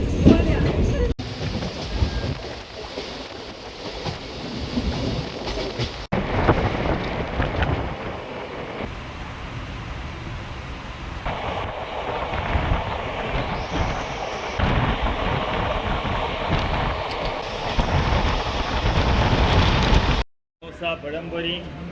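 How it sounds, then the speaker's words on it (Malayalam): A train pulls into Chalakudy railway station, a loud rumbling roar with heavy wind buffeting the microphone, as a person speaks over it and the noise cuts out briefly near the end. "എൻ്റെ ട്രെയിൻ വന്നു ഗൈസ്"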